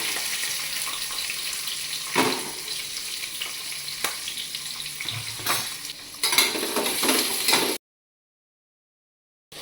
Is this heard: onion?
yes